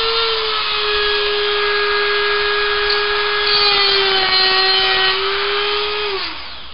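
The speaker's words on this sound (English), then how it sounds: "The reason why you'll need your Dremel is you'll need to cut out this here, and you'll need to cut these out here" A Dremel rotary tool cuts through the plastic of a SNES-style Raspberry Pi case, a loud steady high whine that holds for several seconds before spinning down at the end.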